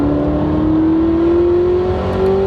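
A 2019 Corvette ZR1 accelerates under gentle throttle, its engine giving a loud, steady, rising drone that climbs smoothly in pitch for a couple of seconds, close up with no talking.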